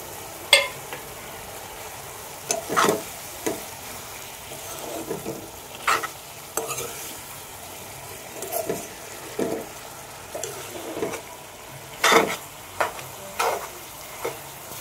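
Chicken fried in a pan with whole green chilies and poppy seed paste, a low steady sizzle punctuated by repeated scraping spatula strokes at irregular intervals, close by, with no voices.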